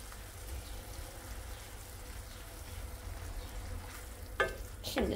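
Frying eggplant in a pan crackles at a low, steady sizzle as tomato sauce goes in, ending with a couple of sharp spoon clinks against the pan, close and quiet, with no talking.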